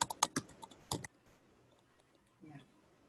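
Several quick clicks of typing on a computer keyboard, a short close burst in the first second followed by near silence with faint movement.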